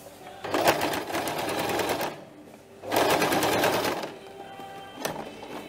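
A sewing machine stitches fabric for a bread basket in close, loud bursts of rapid needle chatter, two long runs separated by a pause, then a short final burst.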